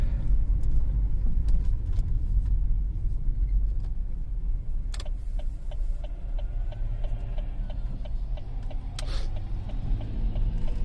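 A 2006 Pontiac Montana minivan with a 3.5 L V6 on the road, steady low engine and road rumble from inside the cabin, with faint ticking and a couple of brief clicks along the way.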